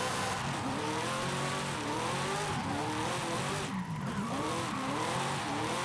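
A car drifting in the Forza Horizon 5 racing game, all-wheel sliding under power, with a continuous engine drone rising and falling alongside steady tire squeal, loud and unbroken throughout.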